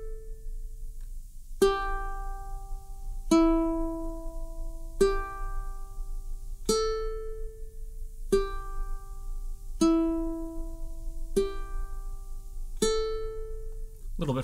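Ukulele finger-picking, thumb and fingers alternating between single strings, each note ringing clearly and slowly decaying in an even, unhurried pattern, close and quiet with no talking.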